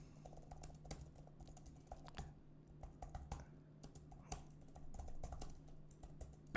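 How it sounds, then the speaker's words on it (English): Steady clicking of keys on a computer keyboard, close by, with irregular bursts of typing over a low electrical hum. "Banging on those keyboards"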